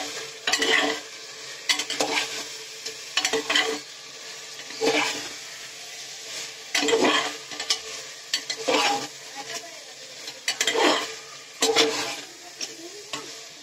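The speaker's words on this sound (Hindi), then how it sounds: "आधा गरम मसाला डाल देंगे अब इसको चलाते रहना है" Mutton masala with onions and garam masala sizzles in a pan while being stirred in repeated bursts of scraping, roughly every second, with a constant frying hiss underneath and no talking.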